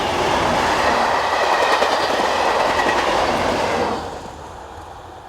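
Two Class 37 diesel locomotives hauling a heavy train rumble past nearby with rhythmic clattering wheels and a broad engine roar, then the noise drops as they move away.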